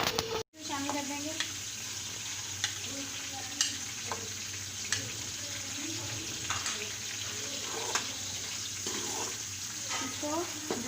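Onions frying in hot ghee in a kadai for murgh masala, giving a steady close sizzle and crackle with occasional stirring scrapes throughout.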